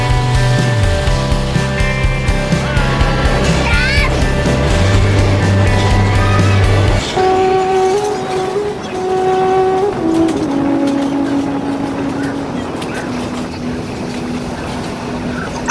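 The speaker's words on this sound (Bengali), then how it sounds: "আমাদের ট্রেন বোরাগুয়াহালি স্টেশন থেকে আরাকুর দিকে এগিয়ে চলেছে।" A train rolls from Borra Guhalu station toward Araku through the hills, a loud, steady tonal drone with regular faint clicks that shifts pitch partway through, with no talking.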